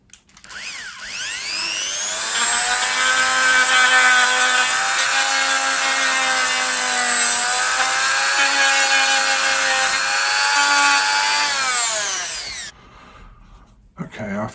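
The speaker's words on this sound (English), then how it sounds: "They're too thick, so they need to be sanded down" A power sander working custom wooden Duncan yoyo wheels, a loud, steady high whine that runs for about twelve seconds with slight pitch sagging under load, then cuts off abruptly.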